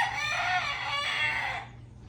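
Fighting cocks crow and hens cluck together in a noisy, continuous chorus at moderate distance, several birds overlapping for about two seconds.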